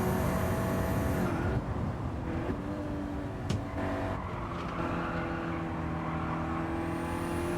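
Turbocharged coupe engine racing in Gran Turismo 7, a loud, up-close drone with rising and falling revs through gear changes and corners, brief tire squeal and no voices.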